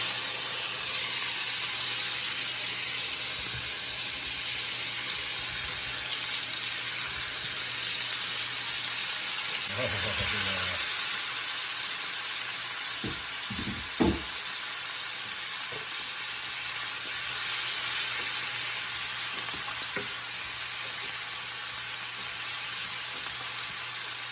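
Sausage and hot cherry peppers sizzle steadily in a hot pan, a constant bright hiss with a few clinks and stirring knocks midway.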